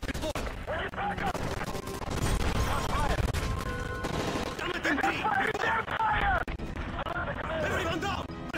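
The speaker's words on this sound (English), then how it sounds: "That's gunfire! Hijackers are taking the place!" Rapid bursts of video game gunfire crackle almost continuously, mixed with shouting voices and chaotic commotion.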